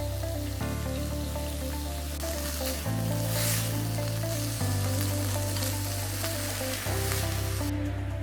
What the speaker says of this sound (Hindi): वेजिस को यहाँ हम सौते करेंगे। इसमें हम ऐड कर रहे हैं थोड़ा सा ऑरिगेनो, ब्लैक पेपर, नमक